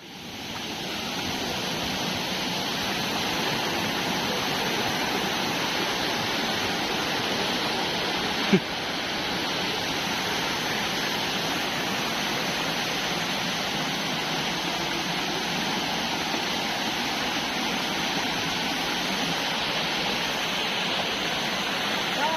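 A river stream gives a continuous broadband rush of flowing water that stays steady and fairly loud throughout, with one brief click partway through and no clear talk.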